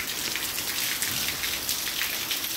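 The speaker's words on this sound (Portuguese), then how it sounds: "É, chuvinha aqui, ó, na Aracaxi. Olhando bem o som." Light rain falling steadily outdoors in a town in northeastern Brazil, a continuous soft hiss of drops on surfaces with no voices, even and unbroken for a couple of seconds.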